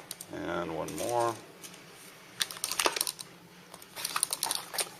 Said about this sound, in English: I like using the big zip ties for these because it just tends to be, they hold up a little better.